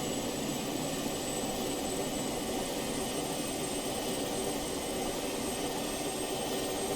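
A plane engine in a 2010 open-world action video game roars in a steady, dense drone that fills the whole clip at an even, constant loudness, with no talking over it.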